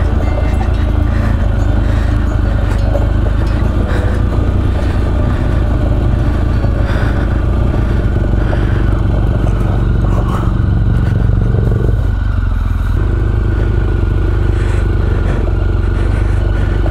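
A BMW R1200GS motorcycle engine rumbles steadily throughout, with rattling clatter and scraping as it jolts down a rough, uneven road.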